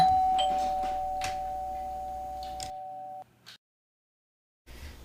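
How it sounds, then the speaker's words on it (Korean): An electronic doorbell built with a coding kit rings with a clear two-tone chime held for a few seconds, then cuts off, leaving near silence. "딩동 소리가 나는 것을 확인할 수 있습니다. 초인종이 만들어졌습니다."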